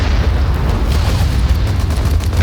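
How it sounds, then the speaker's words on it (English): A mortar round fired and exploding in a World War II-era warfare video game, a loud sustained boom with a heavy low rumble filling the whole stretch, no talking. "I want to shoot the mortar."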